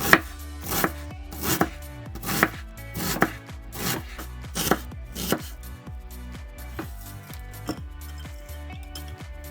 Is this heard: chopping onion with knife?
yes